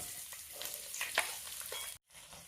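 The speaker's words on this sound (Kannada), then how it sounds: "ಉಳ್ಳಾಗಡ್ಡಿ ಜೊತೆ ಸ್ವಲ್ಪ ಕರಿಬೇವು ಹಾಕಿ ಚೆನ್ನಾಗಿ ತಿರುವಾಡಕ್ಕೆ ಸ್ಟಾರ್ಟ್ ಮಾಡಿ" Onion and curry leaves frying in hot oil in a pan while being stirred, with a steady soft sizzle and a few scraping clicks of the spoon, heard close and quiet before a brief cutoff near the end.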